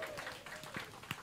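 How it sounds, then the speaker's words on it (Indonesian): Brief burst of audience applause in a church hall during a worship service for women and youth, with scattered claps rising in a few sharp peaks amid a steady wash of hand noise. "oh tepuk tangan buat multimedia"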